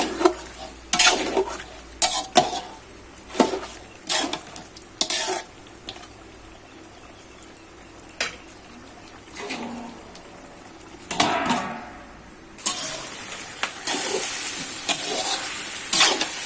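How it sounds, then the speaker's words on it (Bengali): Beef curry is braised for Eid in a pan with a little water added. A steady hiss and sizzle runs under repeated loud scraping and stirring strokes, with occasional metallic clinks of utensils against the pan. "এখন দিব একটু পানি, আর একটু কষাই দিব।"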